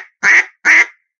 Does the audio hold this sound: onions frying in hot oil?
no